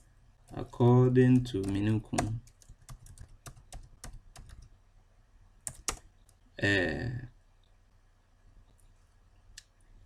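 Computer keyboard keys tapped while a citation is typed, a quick burst of clicks in short runs with pauses between; a person speaks briefly at the start and again midway.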